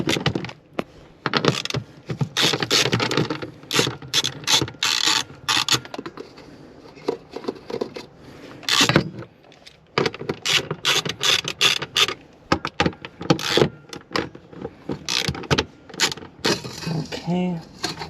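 A ratchet loosens 10mm bolts in a cramped space on a BMW during a low-pressure fuel pump install, sounding as bursts of fast, close clicking separated by short pauses.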